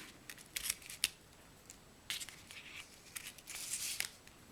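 Scissors trimming cling wrap, a few faint quick snips and crinkly cuts close by in a quiet room, with no talking.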